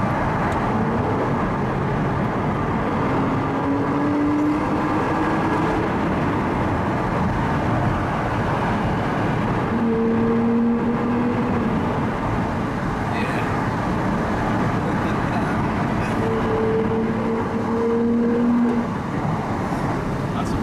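An Aston Martin DB9 engine drones steadily with broadband road noise, rising in pitch in a few long pulls as it revs through the gears.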